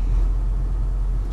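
Steady low road rumble from inside a car on a long drive, a constant loud engine and tyre drone with no other sounds and no talk.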